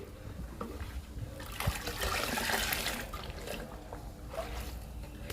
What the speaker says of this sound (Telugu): పేస్ట్ని వాటర్ని బాగా కలుపుకోవాలి